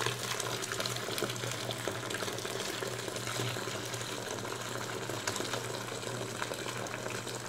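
Boiling water pours steadily into a large container while soap is dissolved for homemade fabric softener, a continuous loud rushing stream with no breaks and no talking.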